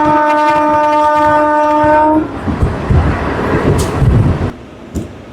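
The Guntur-Repalle MEMU train 67223 sounds a loud, sustained horn for about two seconds, then its running clatter and rumble carry on at speed, with a few sharp metallic knocks.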